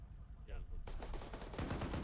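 Gunfire during platoon training, a quiet lull broken by a burst of sharp, rapid shots that continues in a dense run of cracks, moderately distant, with faint radio-style voices around it.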